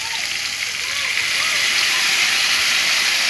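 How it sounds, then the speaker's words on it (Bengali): A paste of ground ginger, cumin and chilli, added with turmeric, hits hot oil in a pan and gives off a loud, steady, hissing sizzle that lasts throughout. "আমি যে মিক্সার জারের যে মশলাটা করেছি"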